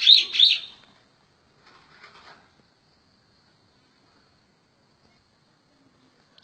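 A tame bamboo prinia, hand-raised and kept as a pet, gives two sharp, loud chirps close by at the start, followed by a few fainter, scratchy calls, then near silence.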